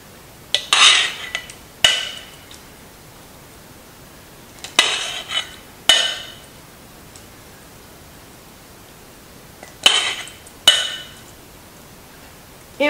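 Butternut squash pieces drained and set down with kitchen tongs around onions and lardons, a handful of sharp metallic clinks and taps in short bursts over quiet.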